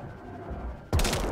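Sudden loud burst of gunfire from a first-person shooter video game, arriving after a quieter stretch of game ambience and holding as a dense, rattling volley to the end.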